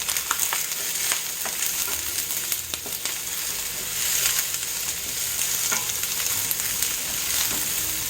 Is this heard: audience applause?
no